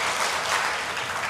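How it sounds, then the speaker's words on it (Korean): Church congregation gives a short burst of dense, steady clapping for the service accompanists, lasting about a second. "우리 이름 없이 빛도 없이 수고해 주시는 우리 반주자들에게 박수 한번 주시죠"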